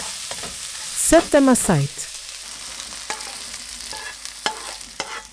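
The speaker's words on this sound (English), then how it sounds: "Now add the chilies and bell pepper plus a pinch of salt. Stir for 20 seconds." Chilies and bell pepper being stir-fried with a pinch of salt in a pan, a soft steady sizzle with scraping stirs, a louder burst early on, and a voice speaking briefly over it.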